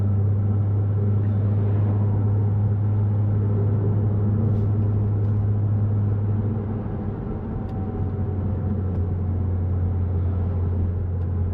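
Car driving back to a hotel through the Austrian countryside, a steady low engine and road rumble heard from inside the cabin, constant throughout with no talk.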